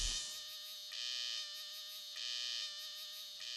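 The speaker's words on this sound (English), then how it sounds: "The male cicada continues to chirp shrilly, oblivious of tiger's presence." Male cicada in the Manas forest of India buzzes shrilly and steadily, a piercing high drone that pulses louder and softer in regular waves, fairly faint with no other sounds.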